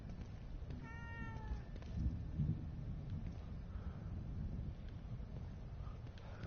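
A cat in the video game The Evil Within 2 gives a brief single meow early on, heard over a steady low rumbling game ambience.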